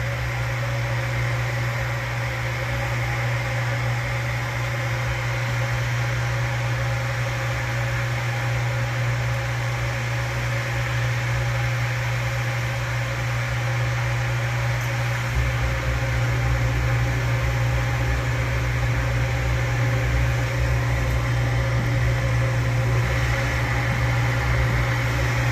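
Sukup portable grain dryer running in manual operation with fan and heat on, a loud steady mechanical hum and airy roar that thickens slightly partway through, constant and close with no talking.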